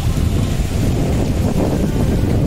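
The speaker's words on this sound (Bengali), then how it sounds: "নৌকা চালানো হচ্ছে" Speed boat motoring through a flooded low-lying area near a station in Dankuni, a loud, steady broadband rumble of engine and water churn mixed with wind buffeting the microphone, continuous throughout with no talk.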